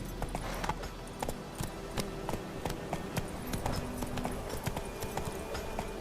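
Roach the horse trots along in The Witcher 3, hooves clip-clopping in a quick steady rhythm over an ambient game soundscape, with a brief low voice underneath.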